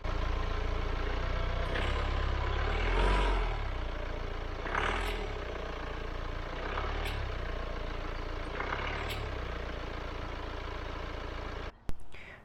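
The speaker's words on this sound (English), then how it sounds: "Run the car for a few moments to let the oil circulate" A BMW 320d E91 diesel idles steadily after an oil change, a low continuous engine rumble with a few faint clicks and taps on top, ending in a sharp knock.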